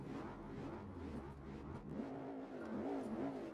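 A truck engine in the video game GT4 Spec II revs steadily and rises in pitch, a continuous mechanical drone with a climbing whine near the end.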